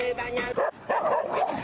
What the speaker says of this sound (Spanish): los perros peleándose